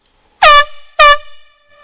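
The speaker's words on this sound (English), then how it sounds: "Especially with the air horns." Two loud, blaring air horn blasts in quick succession, each about a quarter second long, close by.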